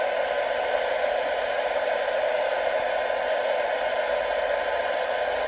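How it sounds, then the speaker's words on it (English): A hair dryer blows with a steady, unbroken whoosh from start to finish, close up and fairly loud, drying a fogged-up BMW E31 headlight, with no voices. "we'll leave the hairdryer on it a bit once I've got this back on"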